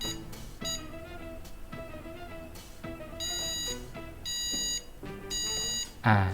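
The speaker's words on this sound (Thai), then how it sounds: "มันคล้ายๆ กับสัญญาณเสียงชีพจร" Several sharp electronic beep tones sound in separate bursts of varying length, some short and some held longer, clear and fairly close.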